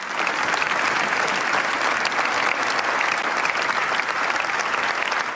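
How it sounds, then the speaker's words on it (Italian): A packed cathedral crowd gives long, thunderous applause as a coffin enters at a funeral in Sicily, a continuous dense roar of clapping that stays loud and steady from start to finish. "Un lungo e fragoroso applauso ha accompagnato l'ingresso della bara"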